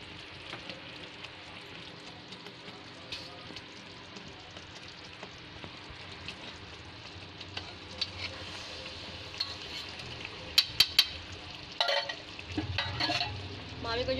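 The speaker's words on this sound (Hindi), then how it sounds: "मावे को जो है चाशनी के साथ अच्छे से मिक्स कर लेंगे।" Mawa being stirred into three-thread sugar syrup in a pan while making barfi, a soft continuous sizzle and scraping with a few sharp utensil clinks toward the end.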